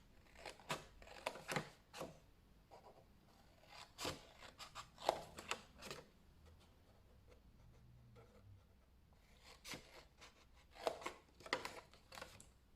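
Scissors cut along a marked line on paper during a homemade advent calendar craft, with quiet snips and rustles in irregular bursts, close but faint.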